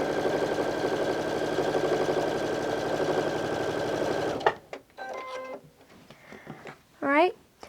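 A sewing machine stitches a quarter-inch seam on a beginner's quilt-as-you-go block, a steady fast close hum for about four seconds, then it stops and someone speaks.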